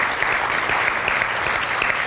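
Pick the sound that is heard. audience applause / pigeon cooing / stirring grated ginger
audience applause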